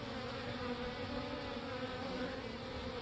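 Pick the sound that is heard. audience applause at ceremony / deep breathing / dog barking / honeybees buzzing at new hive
honeybees buzzing at new hive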